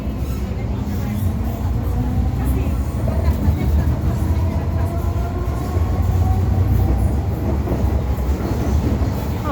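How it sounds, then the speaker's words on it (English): MTR Kwun Tong Line M-Train running between stations, heard from inside a lightly occupied car: steady loud rumble of traction motor and wheels on rail with a faint rising motor whine, continuous throughout. "the strong motor is much louder with less people around"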